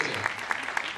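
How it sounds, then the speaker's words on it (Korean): An audience claps to welcome newcomers at a Chinese community gathering, a brief burst of dense hand claps, moderately loud and close. "우리 큰 박수로 한번 환영하겠습니다"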